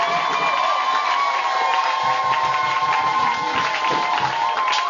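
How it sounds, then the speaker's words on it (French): A church congregation cheers and acclaims loudly during a worship service, a dense, continuous roar of many voices with whoops and shouts sustained throughout. "acclame encore très fort pour le roi des rois"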